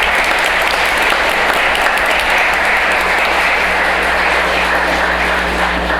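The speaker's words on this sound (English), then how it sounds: "Let's give a round of applause for the group." An audience at a village board workshop and meeting gives a loud, sustained round of applause after a group's presentation, a thick continuous wash of clapping filling the room.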